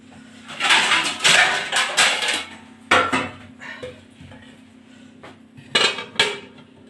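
A lid is handled and set onto a cooking pot of cauliflower, potato and pea curry, giving several sharp metallic clanks and rattles spread across the clip, with quieter gaps of low simmering between them.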